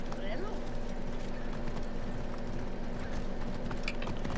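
Rapid hoofbeats of a galloping horse in Assassin's Creed Origins, steady and continuous, with a low rumbling background throughout.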